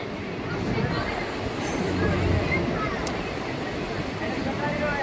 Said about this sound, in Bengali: বাগনান রেল স্টেশনে প্রবেশ করছে দীঘা ফার্স্ট প্যাসেঞ্জার ট্রেন